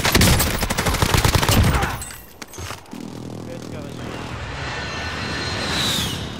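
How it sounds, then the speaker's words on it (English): Rapid bursts of gunfire in a multiplayer shooter battle, dense and loud for the first two seconds, then sparser shots and distant rumble as players talk over it. "I'm getting shot now"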